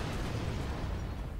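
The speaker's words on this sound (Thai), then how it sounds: "ระเบิด" A bomb explodes in the video game Keep Talking and Nobody Explodes, a loud, dense rumbling blast that fills the whole moment with no pause and no voices over it.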